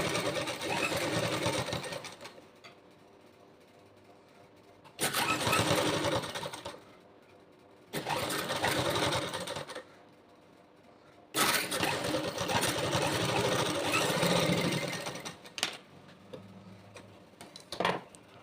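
Electric sewing machine stitching the top fabric around a neck shape, running in several loud rapid bursts separated by quiet pauses.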